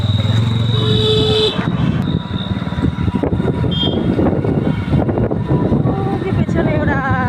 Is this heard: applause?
no